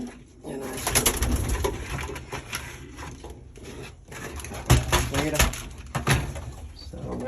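Pigeons coo in a loft among moulting birds fed corn with oils, soft repeated calls running through the clip with people talking nearby and a few knocks.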